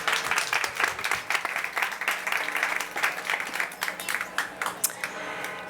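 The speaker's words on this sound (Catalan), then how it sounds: "Un aplaudiment per ell" An audience at a Catalan gathering breaks into applause, a dense patter of many hands clapping that stays fairly even and moderately loud for several seconds.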